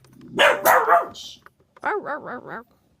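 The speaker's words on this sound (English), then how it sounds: "Those are my dogs." Pet schnauzers barking in a home, two separate bursts of several sharp barks each, the first cluster louder and rougher, the second more tonal and evenly spaced.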